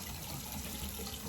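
Tap water running steadily into a bathroom sink while the face is wetted during a morning skincare routine, a continuous soft hiss and splash at low level with no voices.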